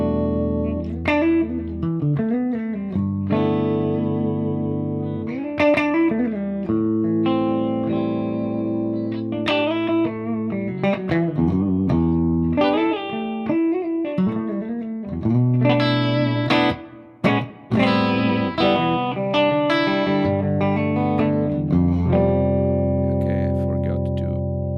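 A distorted electric guitar played through a Fractal amp modeler's cab block with room reverb rings out in sustained chords and single notes, close and full, with a brief pause midway.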